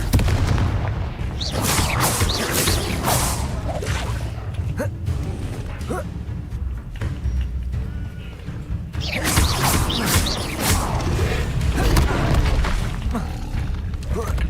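Repeated booming blasts from a Confringo blasting spell in a Hogwarts video game, heavy explosive bursts recurring over the whole stretch with faint voices underneath.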